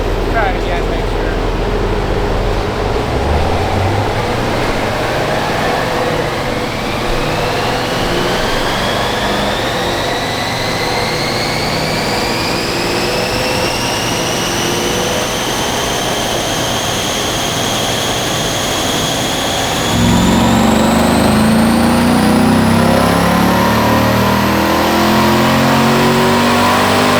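A Chevrolet LT1 V8 on a dyno winds up through a long rising pull, the engine note climbing steadily in pitch, then drops back to a rough, loud idle, with people talking nearby.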